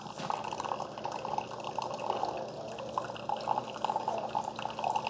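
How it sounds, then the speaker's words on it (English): A Keurig K-Express Essentials coffee maker dispensing near-boiling water in a steady trickling, dripping stream, close up and continuous, with no voices. "That water coming out of there is usually around 200 degrees on that one."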